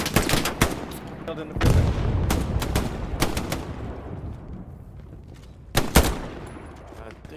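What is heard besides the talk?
machine gun fire in Hell Let Loose, video game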